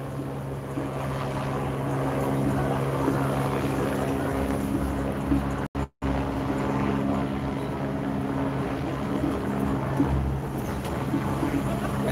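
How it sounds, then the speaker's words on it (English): Steady low rotor drone from multiple helicopters hovering over a protest in Los Angeles's Fairfax District, a constant hum, continuous throughout apart from a brief dropout midway. "Looks like we have multiple helicopters hovering overhead."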